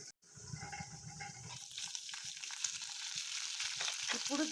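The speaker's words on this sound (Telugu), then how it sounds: "ఇప్పుడు దీంట్లో మనం బాయిల్ చేసి పెట్టుకున్న గోరు చిక్కుడుకాయ ముక్కలు వేసేద్దాం" Boiled cluster bean pieces drop into hot tempering oil and sizzle steadily, growing louder and hissier after a brief pause, heard close up with light stirring and no talk.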